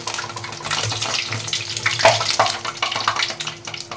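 Maida flour evening snacks deep-fry in hot oil, giving a steady, close hiss of sizzling and bubbling with fine crackles popping throughout and nobody talking.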